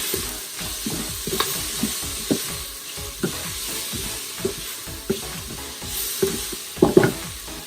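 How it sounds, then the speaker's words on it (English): Chopped tomato gets stirred into onions frying in a pan: a steady sizzle under repeated spoon scrapes and light knocks, close and fairly loud, ending with a few sharper clatters, no talking. "Now I'm gonna add in the tomato. Just give it a slight mix."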